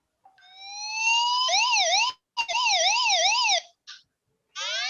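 A sensor device's fever alarm, triggered by heating with a soldering iron past 37.8 °C, blares as a loud electronic siren. Rising tones give way to a fast warbling wail, with brief breaks and restarts.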